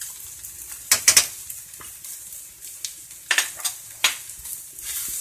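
Turmeric, coriander and chilli powder frying in a pan, a steady sizzle broken by sharp scraping stirs, a pair of loud clustered strokes early and several more spaced ones later, close and without talk.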